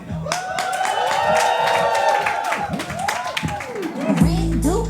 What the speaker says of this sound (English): So I want to give a big round of applause for Nonye